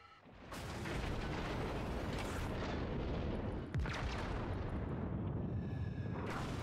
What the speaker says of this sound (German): Da die ersten Schüsse kommen noch nicht mal runter, da sind die nächsten schon in der Luft